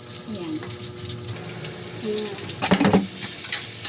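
Ingredients sautéing in a pan for a mung bean dish with smoked fish, soft sizzling under faint background noise, building to a louder burst of crackling and stirring near the end.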